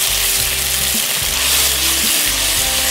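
Garlic and ginger sizzle steadily in a hot pan, a close, continuous frying hiss with a low hum beneath and brief stirring scrapes, no voices.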